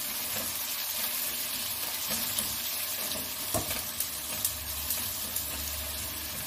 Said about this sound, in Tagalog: abang ginigisa ko to, nagpipirito na ako ng tilapia natin